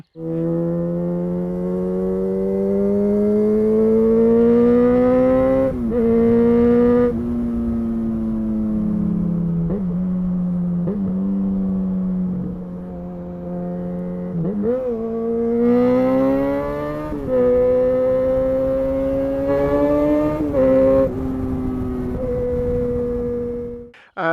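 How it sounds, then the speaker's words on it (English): A Yamaha XJ6 Diversion's high-pitched inline-four motorcycle engine, a detuned R6 engine, revs and screams repeatedly, rising and falling in pitch, loud and close, with no talking. "I absolutely love the sound of this bike. It's an inline 4"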